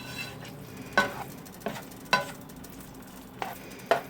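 Rice coated in sauce is stirred around a frying pan: a few distinct spoon scrapes and soft clatters at irregular intervals over a low sizzle, close and fairly quiet, with no talk.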